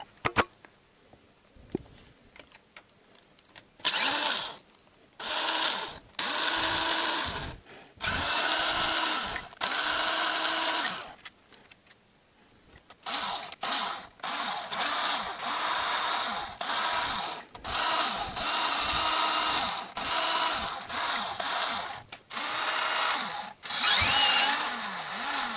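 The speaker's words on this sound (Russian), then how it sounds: "Для ускорения взял шуруповерт, но надо быть осторожным." A cordless screwdriver spins out the camshaft bolts on a Toyota Camry SV30 cylinder head (4S-FE, 3S-FE or 5S-FE engine). It gives repeated loud whirring bursts, some short and some sustained, separated by brief pauses and close at hand.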